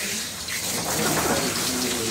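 Water runs steadily from a tap while a cat is being washed, a continuous broad splashing rush close by, with faint talk underneath.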